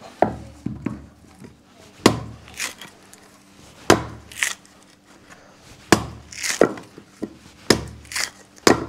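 A red tender coconut is cut open with a knife, giving a series of sharp, woody chopping strikes at uneven intervals, each blow a loud crack followed by softer scraping and handling.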